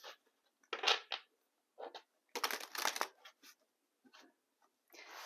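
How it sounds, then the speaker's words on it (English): Tarot of Dreams cards being shuffled, a series of crisp riffling and flicking bursts separated by short pauses, close and fairly quiet with no talk. "Let's do some shuffling."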